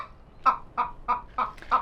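Chickens clucking in a barn chicken coop, five short evenly spaced clucks at moderate distance with quiet pauses between them, no talking.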